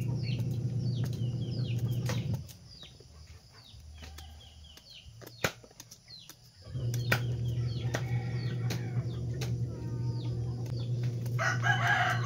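A chicken crows and clucks close by, with wing flaps and bursts of calls over a steady low background hum. A quieter stretch in the middle gives way to louder crowing and clucking again.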